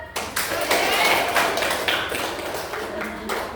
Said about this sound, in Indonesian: Boleh beri tepuk tangan kepada Bapak Richard.